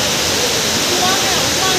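Lakkam Waterfall in Kerala roars as a loud, steady broadband rush of falling water close by, continuous and unbroken throughout.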